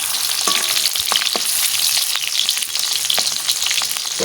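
Chicken and pointed gourd (potol) fry in a pan, with a dense, loud, continuous sizzle and occasional sharp pops and stirring clicks.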